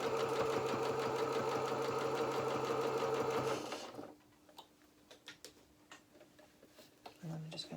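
A sewing machine runs in a loud, steady whirring burst while stitching a felt doll's duffle coat hood, then stops abruptly partway through, leaving quiet handling noises and faint background hum.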